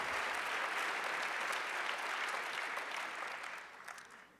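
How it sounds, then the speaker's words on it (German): An audience applauds at a panel discussion event on the open society, steady dense clapping that stays full for several seconds before thinning slightly at the end, with no voices over it. "Ihr Applaus."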